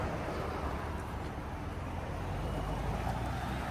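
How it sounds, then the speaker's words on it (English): A supercharged Jeep Rubicon truck fitted with a RIP supercharger pulls away, giving a steady, loud broadband engine and road roar that holds at an even level throughout, with no distinct whine standing out. "AJ rolling out with the Rubicon supercharged truck"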